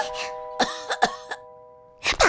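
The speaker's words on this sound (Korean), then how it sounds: "방에서 기침 소리 들렸어." Coughing comes from inside a room of a house, a few short separate bursts near the start and a heavier pair at the end, with a tonal ringing in between.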